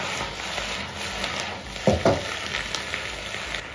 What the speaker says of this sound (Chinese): 下锅煸炒